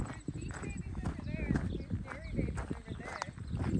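Dairy cows' hooves thud and clop on the ground as the herd runs toward hikers on a trail, a steady close trampling with people talking over it.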